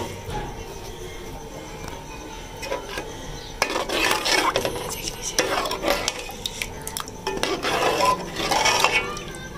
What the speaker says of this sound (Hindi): अब हम हल्का सा इसके अंदर और शोरबा डालेंगे ताकि हमारा आटा भी तैयार हो जाए